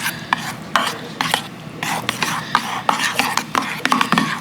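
Lemon juice stirred into a garlic dipping sauce in a bowl: repeated scraping, rasping stirs in an uneven rhythm, fairly close, with little talk.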